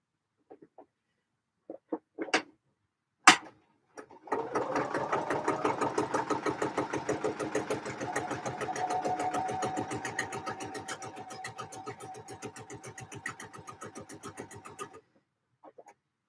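Domestic sewing machine stitching a skirt in a long steady run of rapid, even needle strokes lasting about eleven seconds, close and clear, preceded by a few sharp clicks and taps, with no talking.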